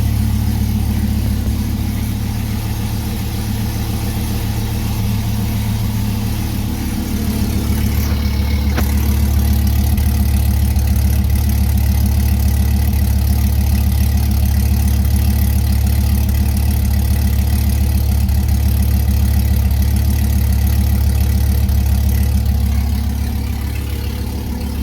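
A Dodge Viper SRT-10 with American Racing headers and Corsa exhaust idles loudly with a deep, rumbling exhaust, holding steady with a slight rise in revs partway through.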